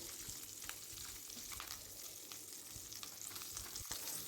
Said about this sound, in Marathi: तेलामध्ये आपण आता ह्या शिमला मिरच छान परतवून घेऊ